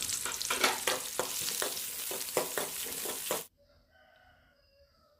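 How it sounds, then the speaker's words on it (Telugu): Onions, cumin and mustard seeds fry in a pan as a spoon stirs them, making a busy sizzle with rhythmic scraping strokes that stop abruptly, leaving near silence. "జీలకర్ర, ఆనియన్స్ వేసుకొని తాలింపు పెట్టుకున్నాము, ఫ్రై చేసుకున్నాము."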